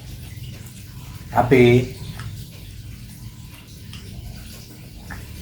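A household tap fed by a pump from a storage tank trickles slowly, a faint, steady low wash running throughout, briefly covered by a short spoken word.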